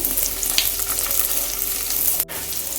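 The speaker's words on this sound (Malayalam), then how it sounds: "ഇതിലേക്ക് നമുക്ക് കാബേജ് ഇട്ട് കൊടുക്കാം" Cabbage sizzles hard in a pan of browned ginger and garlic for a Malayalam chicken and vegetable pasta, a loud, close, continuous frying hiss with stirring and a brief dip near the end.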